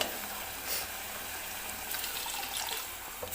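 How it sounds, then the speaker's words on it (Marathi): Water poured from a mixer jar into a pot of simmering dal and spices, a soft continuous splashing hiss, quiet and steady throughout with no voices. "आता मी टाकून घेणार आहे पाणी."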